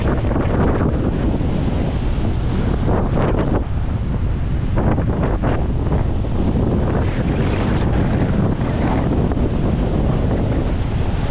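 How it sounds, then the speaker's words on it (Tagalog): Heavy surf crashes continuously, mixed with strong wind buffeting the microphone, loud and close throughout. "Laki ng mga alon."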